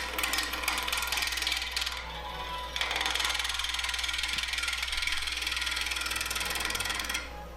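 A gouge cuts into a burl spinning on a wood lathe, giving a steady loud rasping, chattering whir with a constant motor hum beneath, close and continuous with no talk.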